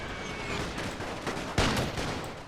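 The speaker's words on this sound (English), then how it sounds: "These guys are a little bit keen, firing over the trenches." Rifle fire crackles steadily over World War I trenches in a Total War battle, a dense, distant rattle of overlapping shots with one louder burst near the middle.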